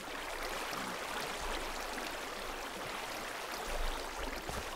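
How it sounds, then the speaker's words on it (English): Steady broadband rushing of a waterfall in the video game Minecraft, a constant wash of falling water with no voices, holding at an even level throughout. "Oh, look, it's a waterfall."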